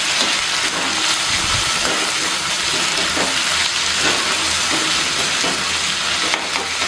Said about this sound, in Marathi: टोमॅटो पण छान मऊ होईपर्यंत आपण त्याला फ्राय करून घ्यायचं।